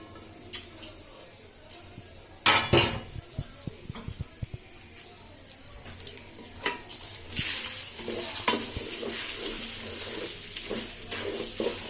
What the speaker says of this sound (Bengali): এখানে খালি শুধু চালটা ভাজুন